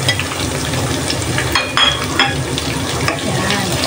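Onion added to garlic already frying in a pan, a loud, dense sizzle with stirring scrapes and a few sharp utensil knocks close by.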